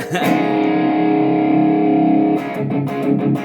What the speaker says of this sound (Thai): เสียงกีตาร์นะครับก็คือเสียงแตกนี่แหละ